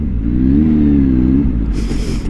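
A loud supercharged 2023 Kawasaki ZH2 motorcycle engine revs up steadily with a rising mechanical whine, close by, then rushing wind noise takes over as it speeds away.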